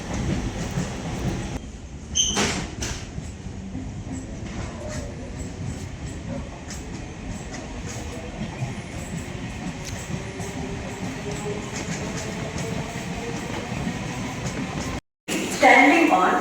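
A night local train running into Sealdah station, a steady loud rumble of wheels with clattering rail joints and brief metallic squeals, and a voice speaking now and then over the noise.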